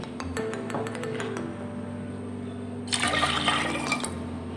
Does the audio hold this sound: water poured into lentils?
yes